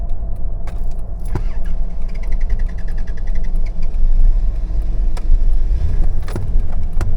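A Toyota Land Cruiser engine rumbles unevenly as it loses power, with clicks and jangling in the cabin, then the running note fades out as it stalls.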